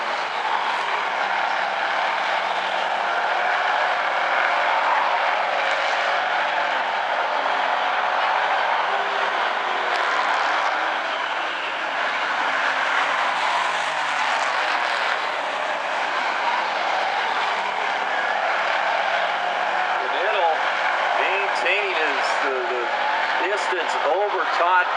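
Hobby stock race cars roar around the oval at South Sound Speedway, a loud, steady engine drone with rising and falling pitch as the pack passes, while an announcer talks over the racing.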